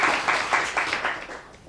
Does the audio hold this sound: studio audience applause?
yes